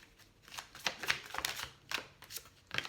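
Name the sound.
shuffling tarot cards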